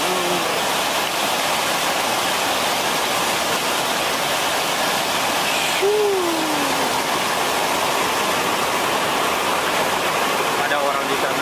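Tirta Buana waterfall in Buleleng, Bali, a steady broadband roar of falling water filling the whole stretch at close range, with a brief tonal whistle or voice-like sweep partway through.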